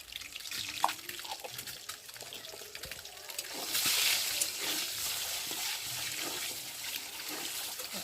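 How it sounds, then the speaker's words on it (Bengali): Eggs frying in a hot pan with turmeric powder, a soft crackle that swells into a louder steady sizzle midway, with faint handling noises. "দিয়ে ফার্স্টে ডিমগুলোকে ভেজে নেব। দিয়ে দেবো হলুদ গুঁড়ো।"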